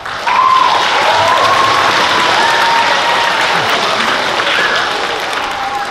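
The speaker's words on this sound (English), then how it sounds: "I think we will hold our clapping or our applause till the end" Audience applause fills a school hall at a National Blue Ribbon School celebration for Lincoln Elementary, a steady, dense clapping of many hands that holds loud for several seconds before easing slightly.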